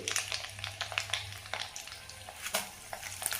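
Mustard seeds crackling in hot oil with urad dal for a mango pickle tempering, a busy run of close popping and spattering over a steady sizzle.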